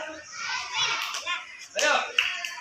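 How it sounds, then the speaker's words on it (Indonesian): Children in an elementary classroom do the tepuk semangat, a rhythmic group clapping routine, with clustered hand claps mixed with their chanting voices, fairly close and lively. "Coba praktekkan tepuk semangatnya."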